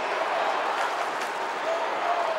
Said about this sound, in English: Crowd lifting.